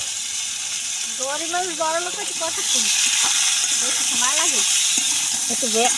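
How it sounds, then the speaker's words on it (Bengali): Potatoes fry in a pan with a loud, constant hiss and sizzle, while a voice talks over it throughout. "আলুটা একটু ভেজে নিলাম"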